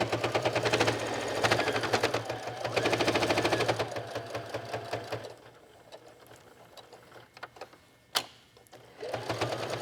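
A sewing machine stitching a colorful fold-and-stitch fabric wallet, running in fast rattling bursts close up, then pausing to quieter clicks and handling before starting again.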